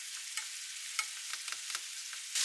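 Salmon stir-fried in a pan with sake, mirin, sugar, soy sauce and white dashi until glossy, giving a steady soft sizzle broken by scattered light clicks and scrapes of stirring.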